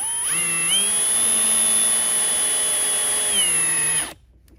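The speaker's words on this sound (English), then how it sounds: "reverse on the drill, and go down very slowly so we don't strip anything out" A power drill runs in reverse steadily at close range for about four seconds, its motor pitch shifting slightly, then stops abruptly.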